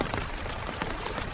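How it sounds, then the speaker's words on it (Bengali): Heavy rain falling on surfaces on a stormy monsoon night, a dense, loud, continuous patter with no voices. "বৃষ্টি থামার কোনো নামই নেই। আকাশে হরম হরম করে বিজলি চমকাচ্ছে।"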